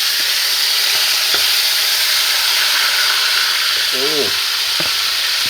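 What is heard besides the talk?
marinated beef frying in hot oil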